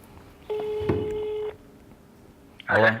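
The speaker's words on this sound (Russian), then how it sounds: "Эдик, тогда звони." A telephone is dialed: two steady dial tones sound in turn with a keypad beep between them, then a brief loud burst of ringing or line tone follows, close and clear with no talk.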